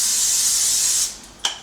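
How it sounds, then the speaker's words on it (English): Cooking spray grease sprayed onto a pan over a medium-high burner: a loud, continuous hiss for about a second, then a brief faint pause and a short final puff of spray. "We'll take our spray grease."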